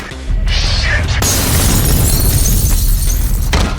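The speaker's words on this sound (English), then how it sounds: "mixes with the game's excellent effects and deafening explosions" A loud, sustained explosion roar in the video game F.E.A.R., with crackling debris and rumbling low end, continuing for several seconds after a sharp initial blast.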